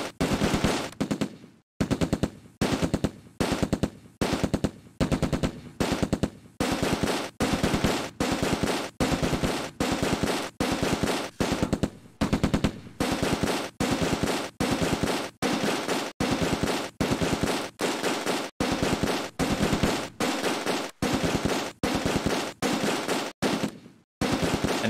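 Sustained enemy machine-gun fire in the wartime strategy game Close Combat, heard as loud, steady bursts repeating one after another with brief gaps, continuing alone for a long stretch.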